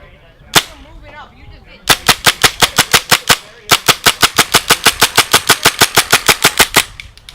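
A Tippmann M4 Carbine paintball marker fires outdoors: one isolated shot, then two long full-auto bursts of loud, evenly spaced sharp pops with a brief pause between them.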